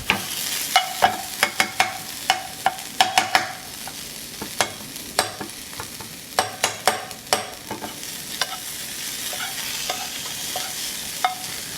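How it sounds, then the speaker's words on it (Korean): Minced meat sizzles in a hot pan while a utensil scrapes and clacks against it in irregular sharp strikes over a steady frying hiss, close and moderately loud. "조금만 더 볶을까? 이게 다진 고기라서 그렇게 오랫동안 안 볶아도 상관은 없어요."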